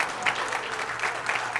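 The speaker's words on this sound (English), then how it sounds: "Great crowd. Gives him a hand." Brief, steady applause from a crowd at an ACST billiards championship match, a short burst of clapping close and even throughout.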